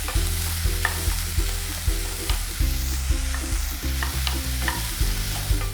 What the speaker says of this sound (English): we'll saute the onion and garlic until the onions become nice and soft and tender for about a couple of minutes